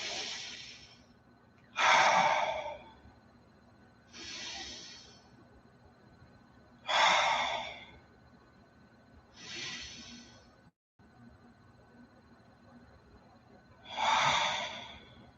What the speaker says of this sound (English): Everyone take a couple of nice deep breaths.